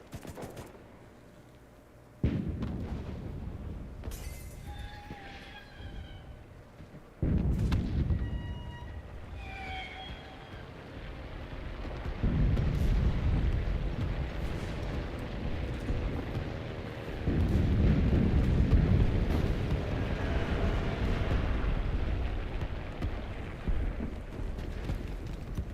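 Artillery barrage in the World War II shooter Enlisted, heavy booming blasts landing one after another, each sudden impact swelling into a long rumbling roar, interleaved with shorter distant thuds and no voices.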